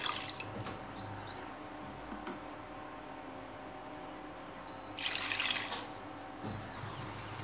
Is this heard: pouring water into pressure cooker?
yes